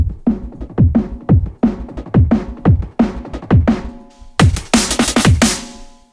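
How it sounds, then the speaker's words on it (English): Solo rock drum loop from an electronic production, with a punchy kick and a roomy rock snare hitting in a steady repeating pattern, louder crash-like hits joining near the end. "So the drums by themselves in this part sound like this."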